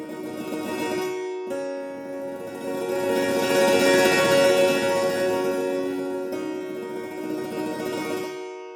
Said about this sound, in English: By bringing up the mod wheel, you can play sustained rolls.